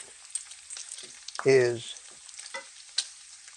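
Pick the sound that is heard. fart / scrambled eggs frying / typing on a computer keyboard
scrambled eggs frying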